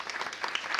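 An audience claps at a Spanish panel discussion on audio and brands, a short dense burst of applause from a crowd, fairly close and continuous.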